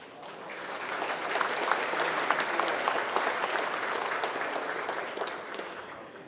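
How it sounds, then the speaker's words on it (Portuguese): Audience applause at a professional conference, a sustained, dense clapping from a crowd that holds steady for several seconds and tapers slightly at the end. "Por favor, vamos recebê-lo com uma salva de palmas."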